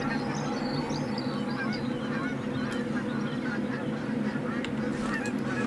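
A flock of geese in the video game Revontuli Coast honks without pause, many overlapping calls forming a loud, sustained clamor, with a few sharp clicks scattered near the end.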